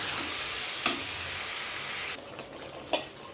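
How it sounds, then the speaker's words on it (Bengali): Fish and potato pieces are stir-fried in a curry pan with salt and turmeric powder, making a soft, steady sizzle broken by a few brief stirring knocks, with no talking. "এবার মেরে চেড়ে ভালোভাবে কষিয়ে নেব"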